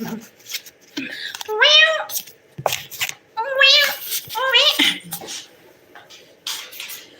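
A pet cat meows several times in a row, drawn-out rising and falling calls close by, with a person talking around them in a home.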